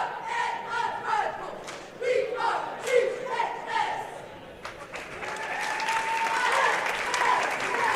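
Goreville cheerleaders chant their opening cheer in a gym at a basketball tournament, rhythmic shouted calls echoing in bursts, followed by a swell of applause and crowd noise.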